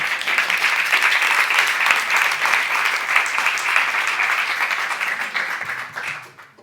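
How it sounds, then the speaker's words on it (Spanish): An audience gives the director a round of applause at a talk about an anti-racial-discrimination project. The clapping is sustained and full, then fades away over the last second. "por favor, un aplauso."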